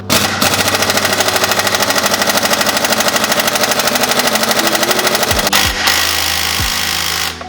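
An air impact wrench hammers rapidly and continuously on a stuck Can-Am X3 primary clutch, a loud, close, machine-gun-like rattle lasting several seconds, then stopping with a few hisses and clunks.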